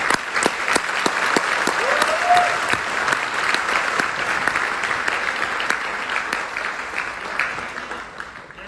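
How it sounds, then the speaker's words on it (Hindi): Loud, sustained audience applause at a Vestige business event, many hands clapping steadily and evenly, fading slightly toward the end. "जोरदार तालियां हो जाए।"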